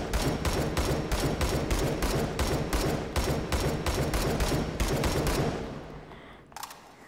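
SCAR Heavy rifle in a VR video game firing on full auto: a rapid, evenly spaced burst of loud shots lasting several seconds, then stopping abruptly, followed by a faint mechanical clack.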